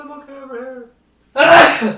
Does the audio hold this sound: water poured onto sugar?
no